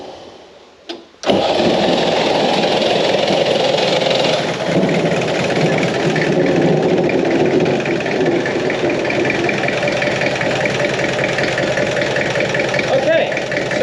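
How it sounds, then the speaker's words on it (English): A Peugeot P4 military diesel engine cranks briefly and catches, then settles into a loud, rough, steady run close by, with someone talking over it. "the glow plugs are sufficiently heated and we can start the engine"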